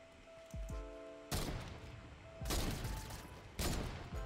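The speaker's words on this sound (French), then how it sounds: "je tire la PM" Submachine gun bursts ring out in an online shooter game, three loud rapid volleys each lasting about a second, preceded by faint game sounds and short tonal effects.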